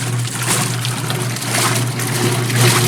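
An antique Maytag wringer washer churns soapy water in a continuous, close, loud sloshing with a steady low motor hum underneath.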